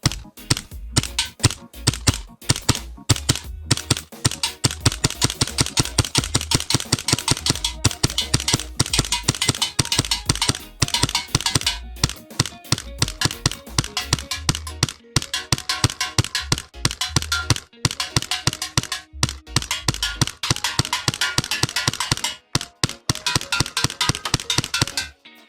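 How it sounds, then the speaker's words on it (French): A custom Hi Capa airsoft pistol fires at small round targets, producing a long, rapid run of sharp, snappy shots with occasional brief pauses, loud and close throughout. "Je rappelle que je tire sur des cibles de 20 cm de diamètre"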